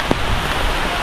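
Steady rain pours down on a hot, sunny day, a dense, loud hiss of drops spattering on surfaces with no pauses and a few sharper taps.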